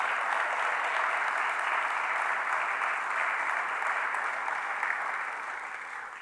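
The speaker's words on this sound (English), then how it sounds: "I thank you for the applause" Conference audience at a tourism event applauds in a steady, even wash of clapping that holds for several seconds and begins to fade near the end.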